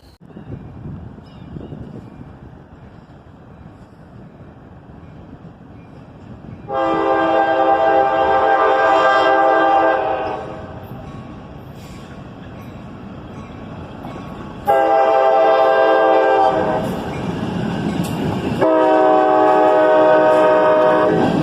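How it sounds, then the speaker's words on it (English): A CSX local freight train, Y102, led by a GP38-2 heading out of the yard, sounds its loud multi-tone horn in several long blasts over a steady rumble of the passing locomotive and cars. "I heard the horn of another southbound, and this time it was the local job, Y102, heading out of the yard."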